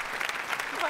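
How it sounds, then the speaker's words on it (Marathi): A studio audience at a Marathi comedy show bursts into loud applause to welcome the actress Mukta Barve. The dense clapping fills the short moment, with a voice faintly underneath. "जोरदार टाळ्या झाला पाहिजे."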